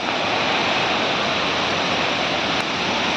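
Steady broadband roar of a waterfall, constant and loud throughout with no breaks, no voices present.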